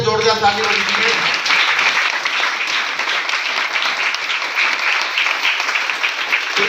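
A live audience breaks into loud, sustained clapping at a motivational seminar, dense and steady throughout, with a voice speaking briefly over the start.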